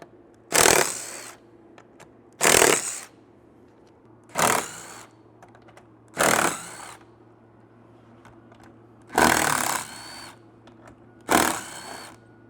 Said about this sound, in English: You're going to use your 12mm socket and remove the stock bolts.